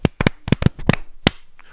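Several people vocalize a rhythmic count-in of short syllables, ending in a single hand clap.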